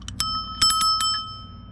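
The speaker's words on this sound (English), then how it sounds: "bell," A Segway Ninebot Max electric scooter's handlebar bell rings in a quick series of bright metallic dings, about six strikes in under two seconds, close and clear with nothing else around.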